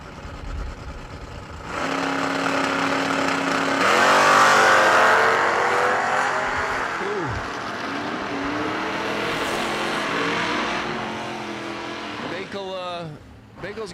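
Drag racing cars at a fall drag strip event, a 1984 Camaro and a Fox body Mustang, launching with loud rising engine revs, then shifting and roaring past before fading, with an announcer talking over the engines.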